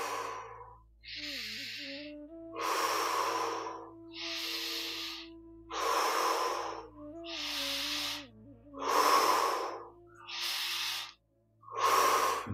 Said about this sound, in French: Encore 5 grandes respirations.